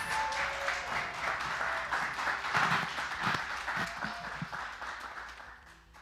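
A press-conference audience applauds to welcome a speaker, with a steady wash of clapping from many hands that holds for several seconds, then gradually fades.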